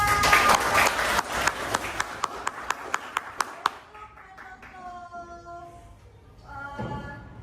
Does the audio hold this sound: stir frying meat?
no